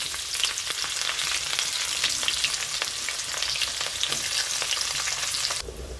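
Chopped onion hits hot oil in a pan of nearly fried potatoes, giving a steady, loud, continuous sizzle with occasional stirring scrapes, no voices over it.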